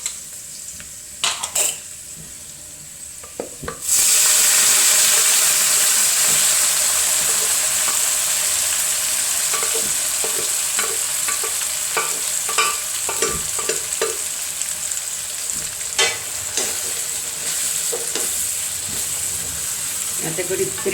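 Onion and precooked pieces hit a hot pan and burst into loud, continuous sizzling, with repeated scraping stirs and occasional utensil clinks while a voice speaks over it.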